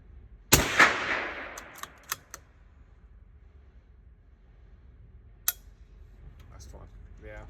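A Ruger .22 precision rifle fires one sharp, loud shot near the start, followed by a few fainter clicks of the action and a smaller crack later, outdoors with quiet pauses between.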